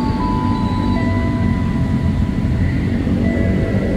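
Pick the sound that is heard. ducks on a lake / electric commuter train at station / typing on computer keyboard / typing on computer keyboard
electric commuter train at station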